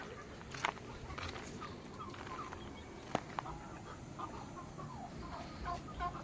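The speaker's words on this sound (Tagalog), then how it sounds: "Mga bibe at pabo." Farmyard poultry, ducks and turkeys, cluck and call in a scattered, quiet chorus, with a few sharper calls standing out against low background noise.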